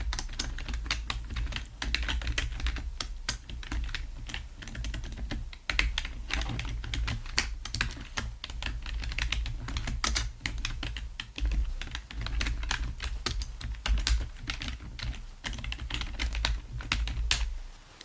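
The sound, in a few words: typing notes into a patient file, ASMR doctor roleplay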